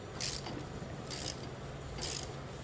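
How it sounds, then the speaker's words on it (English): A ratchet tightens fittings on a garden hose splitter, giving three short, soft clicking bursts spaced about a second apart against a quiet background. "I am going to use a ratchet"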